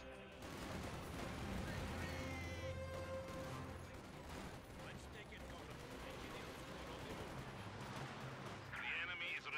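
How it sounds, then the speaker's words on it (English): T-4 super heavy artillery guns firing in a video game, a loud, continuous barrage of booming shots and explosions with rumbling low end that fills the whole stretch. "T-4 super heavy artillery guns."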